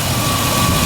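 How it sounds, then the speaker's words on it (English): Jeep Grand Cherokee engine running at idle during an alternator and charging fault check, a steady loud hum with a faint whine, continuous and unchanging. "So the engine is running."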